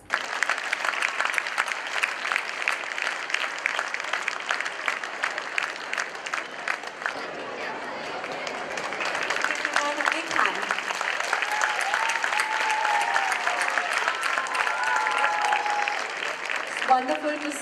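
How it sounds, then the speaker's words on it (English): Sustained applause from a stage performance audience fills the whole stretch, a dense and steady clapping that swells slightly midway and carries on without a break. "Can we please have a round of applause?"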